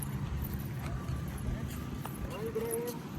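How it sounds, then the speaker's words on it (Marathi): Horse hooves clip-clop faintly at a distance as a horse is ridden near the Daulatabad viewpoint, a steady soft beat under a low outdoor murmur. "इधर घोडा भाई भी है. रायडिंग पण चालू आहे."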